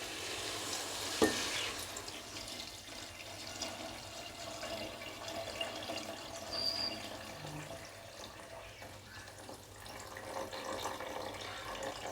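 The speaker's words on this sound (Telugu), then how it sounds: "రైస్ వాటర్ దీంట్లో వేసేసుకుందాం." Rice water poured into a pot of vegetable biryani with chopped coriander and curry leaves, a continuous gushing, splashing pour at moderate level lasting around twelve seconds, with no talking.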